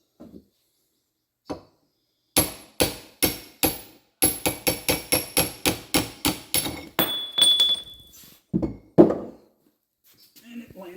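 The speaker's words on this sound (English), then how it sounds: "Big old ball peen." A big ball peen hammer strikes metal repeatedly during an axle repair on an electric slope mower in a workshop. Sharp, ringing blows come in a steady series and then speed up into rapid strikes, loud and close, with brief pauses between bursts.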